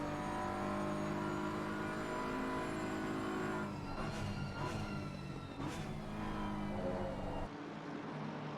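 A GT race car in a sim racing game at Paul Ricard drones at steady high revs with a buzzy harmonic tone, then dips through a few gear changes before cutting off abruptly, with no talking.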